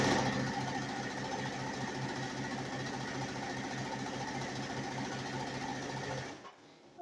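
A sewing machine chain-pieces quilt squares for a nine patch charm square quilt, its rapid rhythmic needle chatter running steadily and close for over six seconds, then cutting off abruptly.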